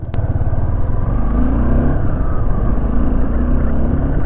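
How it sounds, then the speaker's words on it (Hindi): A Suzuki V-Strom SX 250 motorcycle, freshly serviced after its first service, rides along with a steady, loud engine drone and wind rumble throughout, no voices. "अब बाइक को हम चला करके देख लेते हैं आखिर चलती कैसी है सर्विस के बाद में"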